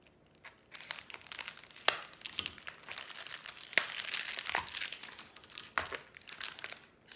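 Decorative Easter ribbon being cut into long strips for tabletop decor, with crinkling, rustling and sharp snipping bursts scattered irregularly throughout, close up and fairly quiet, no talking.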